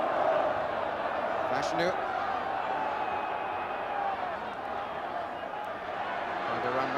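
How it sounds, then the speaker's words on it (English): A football stadium crowd roars after a goal at Arsenal versus Nottingham Forest in the 1987/88 FA Cup quarter final, a dense, steady wash of noise sustained throughout, with a commentator speaking over it. "The goal has certainly woken up the crowd."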